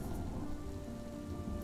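Steady rain pours down as a background effect in a night-time Vietnamese ghost story about a frog hunter, a dense even hiss with faint low rumbles, no voices.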